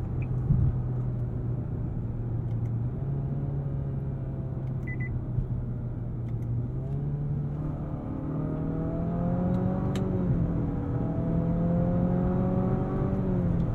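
The engine and CVT of a 2023 Nissan Altima SR hum low from inside the cabin, then rise steadily in pitch as the car sluggishly gathers speed, a smooth continuous whine with a few faint beeps and no talking.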